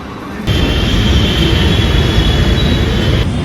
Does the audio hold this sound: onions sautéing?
no